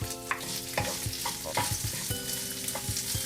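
Sliced onion and fragrant leaves stir-frying in a hot pan, a close, constant sizzle broken by repeated scraping spatula strokes in an irregular rhythm.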